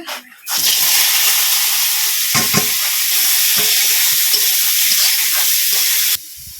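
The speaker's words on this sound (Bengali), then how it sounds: "কেশরটা এখন কড়াইতে তেল দিয়ে ভাজি নেব একটু" Boiled young jackfruit hitting hot oil in a wok, a loud sudden sizzle that holds steady and close for several seconds with small stirring knocks, then cuts off abruptly.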